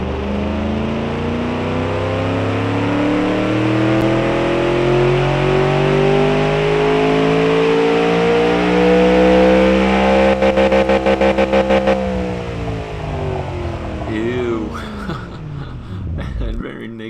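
A car engine in the car-design game Automation revs loudly and steadily, its pitch climbing and holding high before a rattling stutter and a falling wind-down, with a voice faintly underneath.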